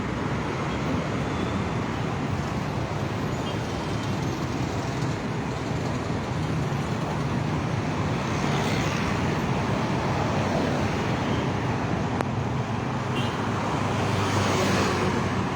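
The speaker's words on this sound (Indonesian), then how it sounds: "Ini terjadi kemacetan persis di pangkal jembatan Ampera kawasan Seberang Hulu." Traffic jam at the foot of the Ampera bridge in Seberang Hulu, a steady dense rumble of idling and creeping cars, buses and trucks at moderate distance, continuous without pauses.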